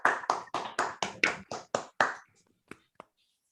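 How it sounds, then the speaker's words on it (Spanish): Audience applause for Gerardo at an academic talk on genomic data analysis, a string of nine sharp, evenly spaced claps close to the microphone, followed by silence and two isolated final claps. "Podemos aplaudir igual de vuelta a Gerardo otra vez ahora."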